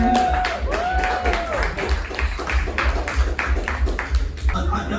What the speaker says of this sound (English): you guys ready to clap it up for Matt Proctor?